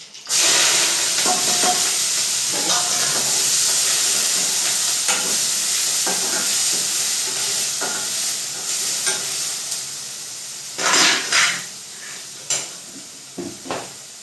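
Tomato tipped into a pan of frying onions and chilli, giving a steady loud sizzle with scraping stirring strokes throughout and a few sharper bursts of spattering near the end, no voices.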